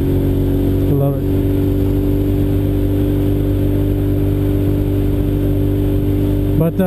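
A Suzuki SV650 motorcycle engine runs steadily and loudly close by, holding a constant idle-like drone throughout with a brief disturbance near the start and end.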